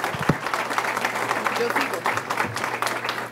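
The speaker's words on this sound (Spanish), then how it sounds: "Un aplauso para Santiago, por favor." An audience at the launch of the book "Memorable Vol. I" applauds, a steady patter of clapping lasting a few seconds with a voice speaking over it.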